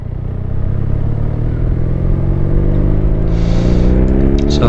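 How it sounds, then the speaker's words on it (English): A BMW R nineT motorcycle riding along, its engine a loud, steady low drone that rises slightly in pitch with wind rush, close and continuous with no talk. "So I finally get to ride an RnineT."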